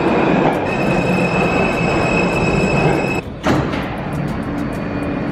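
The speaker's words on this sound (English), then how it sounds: "like most people take the train, this is where they go" A New York subway train rolls through the station, its wheels squealing in a sustained high whine over a heavy rumble and clatter. The sound is loud and near, with a brief dip before the noise carries on.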